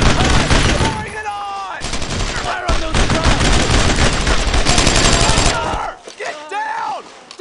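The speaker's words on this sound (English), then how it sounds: "I need suppressing fire!" Suppressing gunfire rattles in a World War II battle in Brothers in Arms: Road to Hill 30, with loud, dense rifle and machine-gun bursts mixed with shouting soldiers, easing off near the end.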